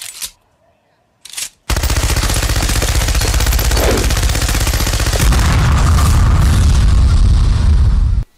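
A heavy gun in a FNAF fan video game fires a loud, sustained rapid barrage, a dense continuous roar of shots after a couple of brief sharp bursts, filling the scene for several seconds.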